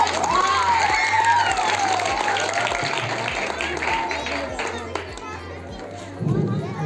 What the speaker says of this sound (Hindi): जोरदार ताली के साथ स्वागत करें रमेश सर जी का।